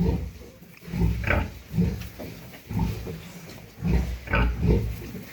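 Pigs grunt in steady rhythmic bursts, low snuffling oinks close by, rising and falling as six-week-old piglets suckle at a sow.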